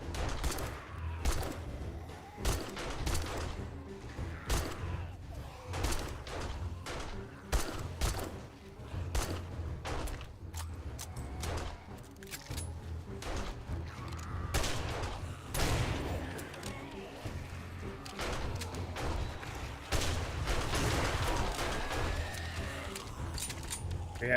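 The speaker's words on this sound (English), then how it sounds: "I'm trying not to shoot towards it." Gunfire in the video game 7 Days to Die, repeated sharp shots in irregular bursts over a busy game soundscape with other clatter, lasting about twenty-four seconds.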